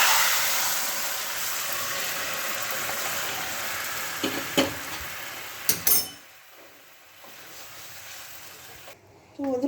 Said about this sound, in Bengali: এবার আমি এর মধ্যে ফুলকপি আলুর ঝোলটা ঢেলে দেব